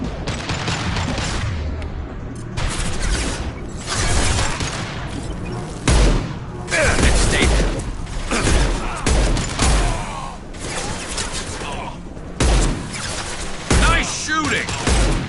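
Bursts of video game gunfire at a combat lookout position, loud and close, firing in repeated volleys with short pauses between them, with a voice talking over parts of it.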